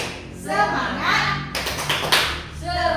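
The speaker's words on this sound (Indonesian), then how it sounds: "ayo sekarang ayo. Tepuk semangat." A class of children chants and then breaks into a short burst of rhythmic group clapping for the 'tepuk semangat' cheer, with voices continuing afterward.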